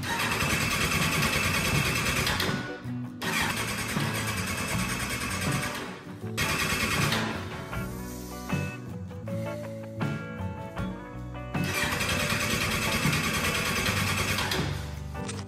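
Kawasaki Z1000 motorcycle engine cranking over repeatedly without catching, a loud, steady churning in long bursts separated by short pauses.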